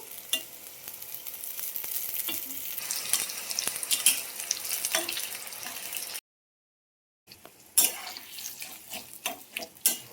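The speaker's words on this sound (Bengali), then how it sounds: "সাথে একটু পটল ভাজাও করছি" Sliced pointed gourd frying in a pan gives a steady bright sizzle with scrapes of stirring, broken by a short gap, then more sizzling with sharp clinks and stirs.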